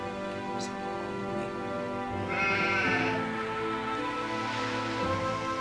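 Sheep bleat in the strategy game Anno 1602, a few rising calls over steady game music, with a brief faint high chime near the start.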